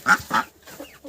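A domestic duck being caught gives two loud, close quacks in quick succession, followed by fainter, softer calls.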